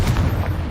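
A Confringo spell explosion in the video game Hogwarts Legacy gives a loud, short, deep boom that rumbles steadily throughout, with no pause or talk.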